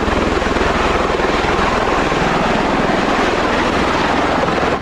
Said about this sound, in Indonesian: Ini pesawat Osprey.